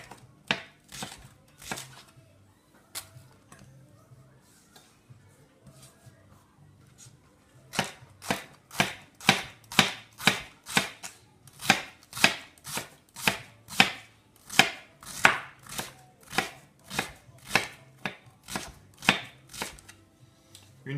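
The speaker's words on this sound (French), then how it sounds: "Je vais couper assez finement parce que l'endive a un peu d'amertume" Knife finely slicing endives on a cutting board: a few scattered cuts, then a long fast, even run of crisp, close chopping strokes.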